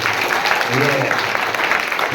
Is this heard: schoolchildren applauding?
yes